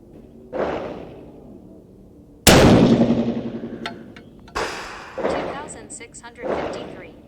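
A single loud, sharp rifle shot from a 6.5 PRC firing a 50.3-grain IMR 4831 handload, with a long, rolling decay. Voices speak before and after the shot.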